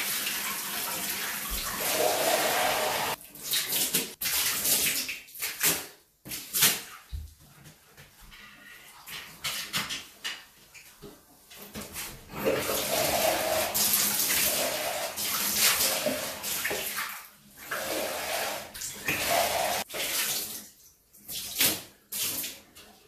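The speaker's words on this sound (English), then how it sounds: "Let's wash this off. Let's just rinse our sponge." A sponge is rinsed in a bathtub under running tap water, splashing and gushing near the microphone in uneven bursts with brief pauses and squeezes between them.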